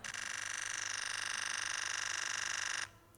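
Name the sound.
Nikon Z9 simulated shutter sound at 20 frames per second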